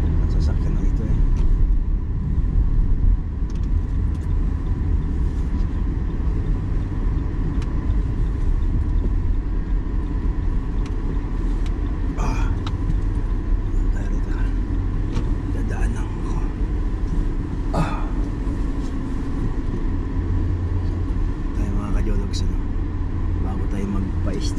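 A car drives along a road near Confederation Mall, its engine and tyres producing a steady low rumble throughout, with a few brief sharper clicks and knocks over the continuous road noise.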